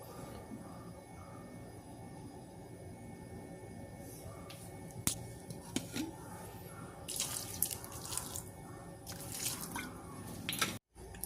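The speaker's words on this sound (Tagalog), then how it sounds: "Lagyan na rin tayo ng suka. Cane vinegar, you know." Liquid trickles and splashes steadily into a cooking pot as cane vinegar is poured for fish paksiw with bitter melon, a low continuous pouring with a few sharper drips and knocks toward the end.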